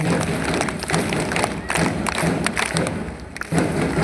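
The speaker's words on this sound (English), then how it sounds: "Let's have a round of applause for him." An audience at a school sports awards ceremony claps for a silver-medal runner, loud close applause with sharp individual hand claps and thumps in an uneven, lively rhythm, and no speech over it.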